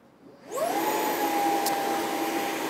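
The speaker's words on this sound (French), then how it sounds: "Donc je vais allumer l'aspirateur, je suis désolé pour le bruit." A Jimmy H8 Flex cordless stick vacuum whirs up from quiet to a steady, loud motor whine with a high pitched tone, running continuously with no talking.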